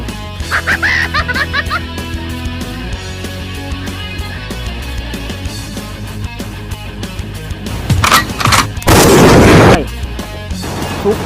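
Video game gunfire, with bursts of shots over a busy game soundtrack, building to loud rapid firing near the end. Voices and laughter are also present.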